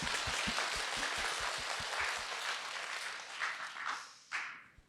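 An audience claps at a dharma talk in Jogyesa temple, rapid, distinct hand claps at first, then a wash of applause that thins out and fades near the end.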